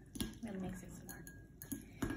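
Utensils clink and scrape against a pot or bowl while spicy instant noodles are stirred, a few sharp metallic taps spaced across a short stretch with faint background noise.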